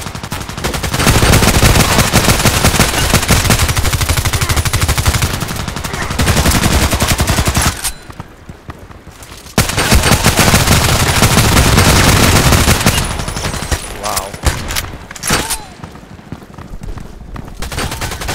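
An MK14 EBR rifle fires long automatic bursts in the shooter game Contract Wars, loud and dense, broken by a short lull partway through before the rapid gunfire resumes with a few scattered final shots.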